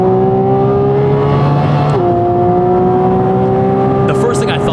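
Porsche Cayman GT4 RS driving on a race track, a loud steady engine drone heard from inside the car with a gearshift dip partway through, while someone talks over it.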